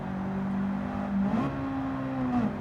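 A Honda race car's engine hums in Gran Turismo 7, a steady whining drone heard from inside the car that briefly climbs in pitch and settles again.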